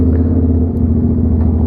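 A Royal Enfield GT 650 motorcycle fitted with a loud exhaust idles close by with a deep, steady, throbbing rumble and no break for the whole short stretch.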